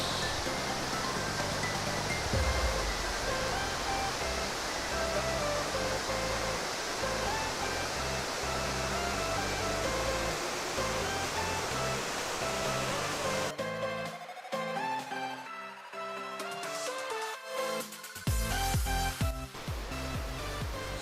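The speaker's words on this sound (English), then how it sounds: "So this is the Tirathgarh Waterfalls." Tirathgarh Waterfalls in Kanger Valley National Park roar as a steady, broadband rush of falling water that fills most of the scene, then gives way near the end to a choppier, uneven mix of sounds.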